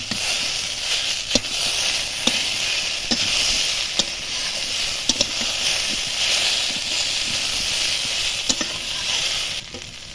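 Masala for a papaya and fish curry frying steadily in a pan, a continuous close sizzle broken by occasional sharp scrapes of a spoon, with no talking.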